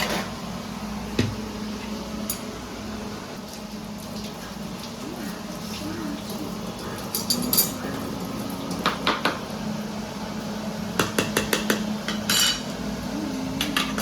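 Cooked rice is strained out of a pot in a home kitchen once the gas is off, with clinking metal, scraping utensils and scattered sharp taps over a low steady hum, fairly close and moderate in level.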